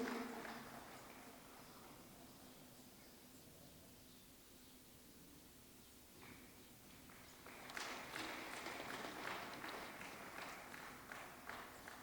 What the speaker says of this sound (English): I think we should continue clapping as this is the formal commencement of the Labour Economics Conference.